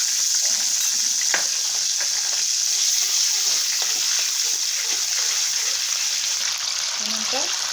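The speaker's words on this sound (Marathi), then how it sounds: "आता हे बटर आणि तेल याच्यात मी अद्रक लसूण पेस्ट टाकून घेते" Ginger garlic paste frying in a mix of butter and oil, a bright, steady sizzle and hiss with occasional stirring scrapes and pops, close up throughout.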